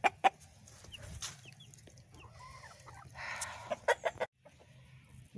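Chickens cluck and squawk close by, with sharp calls scattered over a steady rustling background and a brief pause near the end.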